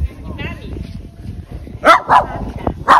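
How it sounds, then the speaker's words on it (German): Three sharp dog barks ring out close by in Iran near the end, following quieter background murmuring and a faint yip. "Und natürlich Hunde kennenlernen hier."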